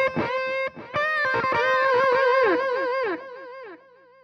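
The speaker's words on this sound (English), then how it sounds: "now I hear my distortion in stereo" Distorted electric guitar in stereo through a Line 6 Helix into an amp used as a power amp: quick picked notes and bends ringing out loud, then a fading sustained note, with no talking.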